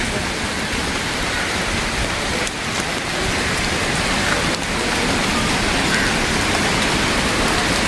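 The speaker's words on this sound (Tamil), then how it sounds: "ஃபோட்டோ எடுத்த உடனே அப்படியே நல்ல மழை." Heavy rain pours steadily at the Galle Fort lighthouse in Sri Lanka, a dense, even hiss of drops hitting surfaces close by, continuous and loud throughout with no voices.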